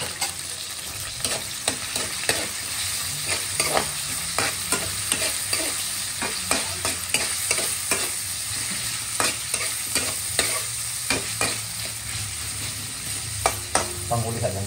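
Spices and ingredients sautéed in cooking oil for a native chicken dish with coconut milk, a steady close sizzle broken by regular scraping and clinking stirs, no talk.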